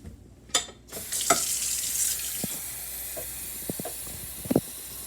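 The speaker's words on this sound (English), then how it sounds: "now let's fill this up with 2 cups of water" Tap water pours into a pot with a bright, hissing rush that starts after a short knock and runs steadily, broken by a few light clunks and taps of the pot being handled.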